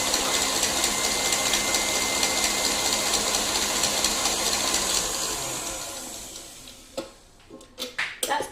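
An electric hand whisk beats Victoria sponge cake batter in a bowl with a steady whirring motor hum, then slows and stops, leaving a few light knocks and clatters.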